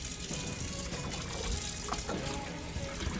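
Water sloshes and trickles steadily in a plugged sink as a silicone mask is swished back and forth in soapy water with a dab of dish soap, a continuous close wet wash with no talking.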